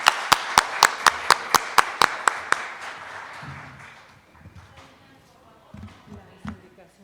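Applause at a lecture in Santiago, Chile, beginning as a run of a dozen sharp, evenly spaced claps that dissolve into scattered softer clapping and murmuring before fading.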